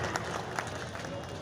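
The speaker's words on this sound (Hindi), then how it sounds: "मैं चाहूँगा कि इस बात पर जोरदार तालियां होनी चाहिए" Crowd applause at a political speech in an Indian district after an election, a steady dense wash of clapping sustained for a moment with no voice over it.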